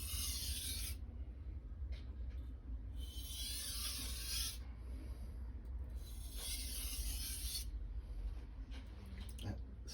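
A 165mm Santoku knife is stropped on a sharpening stone, giving bright, hissing rasps in about three long strokes, close and clear over a low background hum.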